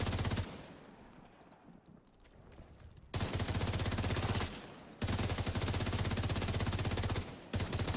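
Sustained automatic gunfire from The Division 2 rattles in loud, dense bursts, broken by short pauses and one quieter stretch near the start, with no voices over it.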